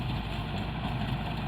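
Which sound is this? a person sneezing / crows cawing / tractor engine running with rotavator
tractor engine running with rotavator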